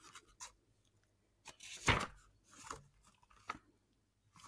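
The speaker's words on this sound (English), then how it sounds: "Sorry, everyone who's just like listening to the page turning." Paper pages of a book being turned, a few soft rustling swishes spaced over several seconds, close and quiet with one fuller flip in the middle.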